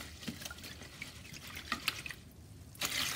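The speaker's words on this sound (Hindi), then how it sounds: "एक से दो बार धोएंगे इसको और इसको हम भिगो के रख देंगे" Water splashing and dripping as moong dal is rinsed in a bowl in a home kitchen, with scattered small drips and trickles, a louder watery burst near the end, quiet and close with no talking.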